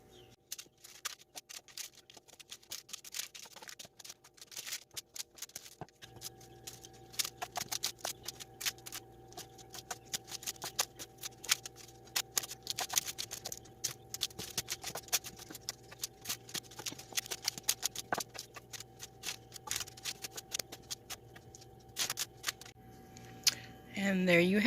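A knife cuts a double batch of chocolate fudge into squares on a hard surface, giving many quiet, close, irregular taps and scrapes over a faint steady background hum.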